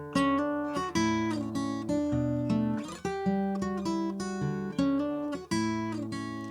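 Acoustic guitar played fingerstyle, a dreamy melody of clearly plucked notes ringing over sustained chords, with bright harmonics and a steady, moderate pace, close and clean with no talking.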